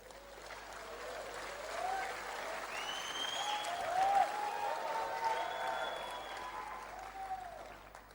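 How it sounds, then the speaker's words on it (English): Sustained audience applause and clapping at a church sermon, a broad steady wash of hands filling a large hall for several seconds, with some voices and cheers mixed in. "Clap."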